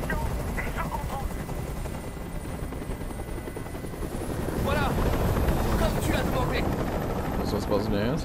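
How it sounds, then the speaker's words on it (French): Helicopter in the video game Detroit: Become Human, a loud, steady rotor thrum filling the whole stretch and swelling slightly toward the end, with game sounds layered over it. "Je peux plus supporter ce bruit! Fais dégager cet hélicoptère"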